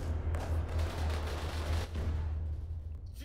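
Gunfire rattles in dense bursts over a low rumbling background during a combined arms operation in ArmA 3, loud and close before thinning out toward the end.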